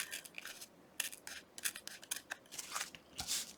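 Paper being cut by hand with scissors during a craft project, a close run of crisp, irregular snips and rustles with no voices.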